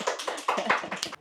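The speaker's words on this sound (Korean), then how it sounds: "박수하는" Audience applause at a Korean citizens' radio forum on restoring Sanbon Stream in Gunpo, a short burst of dense, close clapping with irregular hand claps throughout, no talk over it.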